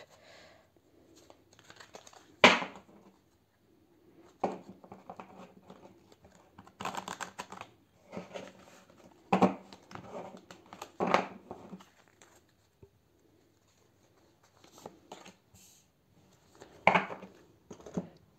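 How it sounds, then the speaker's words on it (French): Oracle cards are shuffled close by in irregular bursts of papery riffling and soft slaps, separated by short quiet gaps, with no talking. "Je fais le mélange des cartes volontairement sous vos yeux."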